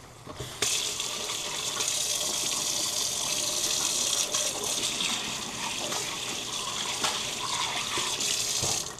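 Water runs steadily from a kitchen tap for a quick hand wash, a continuous close hiss and splash lasting several seconds after an abrupt start.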